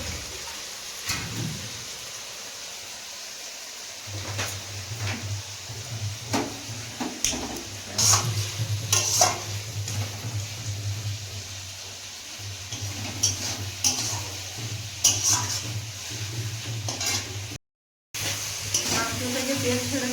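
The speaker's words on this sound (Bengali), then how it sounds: "মাংস থেকে তেল ছেড়ে দিয়েছে, কষানো হয়ে গেছে" Goat meat frying and being stirred in a pan, a soft continuous sizzle broken by scraping clinks of a spoon against the pan, with a low hum in the background.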